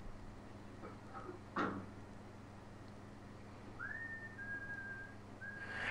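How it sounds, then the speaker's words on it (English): The villain in the horror film Jeepers Creepers whistles his own theme song, a clear sustained melodic whistle entering midway over a dull background hum, after a few brief knocks and clatters. "He freaking whistles his own theme song."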